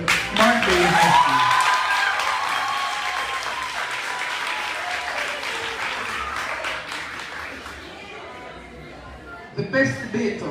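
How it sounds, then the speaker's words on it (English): An audience applauds the second-place team at a high school debate competition final: a full, sustained round of clapping, strongest at the start and slowly thinning, with some voices mixed in and a brief louder burst near the end. "I solicit your equally rousing round of applause for a second place team"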